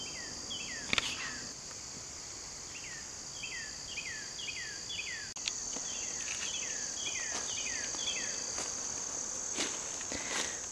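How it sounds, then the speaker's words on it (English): A grasshopper in a garden chirps in repeated short bursts, several raspy trills in sequence over a quiet outdoor background with a few faint knocks. "Hey, little grasshopper."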